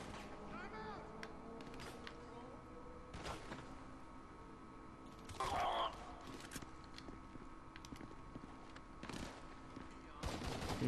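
Sparse SMG bursts in GTA 5 crack out at scattered moments over a quiet background, with a louder burst midway and another near the end, and speech occurs between them.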